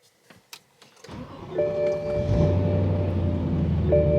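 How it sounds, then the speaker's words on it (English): A car engine starting: a few faint clicks and knocks, then the engine catches with a rising roar and settles into a steady, close idle hum with a faint whine on top. "did I just start a supercar? Super gas guzzler."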